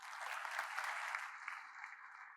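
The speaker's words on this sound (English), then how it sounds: "Can we have a big round of applause for him, please?" Brief, steady applause from a conference audience at a valuation summit, a dense patter of clapping hands with no gaps.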